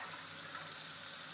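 Hot water runs steadily from a kitchen tap for washing dishes after cooking, making a continuous, even hiss of flowing water, faint and close.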